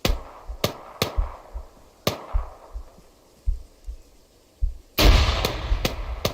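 Arma 3 combat: sharp gunshots crack at irregular intervals, some close and some distant with echoing tails, followed by a loud frag grenade blast that rolls out into several more reports; no talking.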